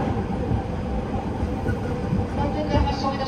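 Interior of a JR East 209 series 1000-subseries Chuo Line rapid train with Mitsubishi GTO-VVVF drive, arriving at Shinjuku station: steady low rumble and rail noise with a few faint clicks, continuous and close.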